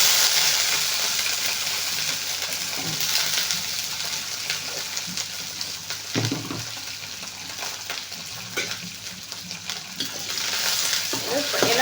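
Garlic, onion and chana dal frying in hot oil, giving a continuous close sizzle with occasional stirring scrapes and a sharper clatter around the middle, with no talking.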